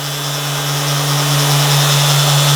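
An orbital sander, a Festool setup, runs steadily on a wooden bench, a loud continuous motor hum with a strong low drone and a broad hiss of abrasive on timber, unbroken and close with no talking.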